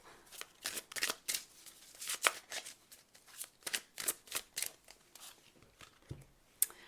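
Oracle cards being shuffled in a repeated series of crisp riffling bursts, close and fairly quiet, with no talking.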